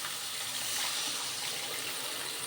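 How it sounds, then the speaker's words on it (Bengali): Water pours steadily into a pan of Bengali rohu fish curry with potatoes to make the gravy, a continuous close splashing gush with no speech. "এবারে এর মধ্যে আমি জল দেব গ্রেভির জন্য।"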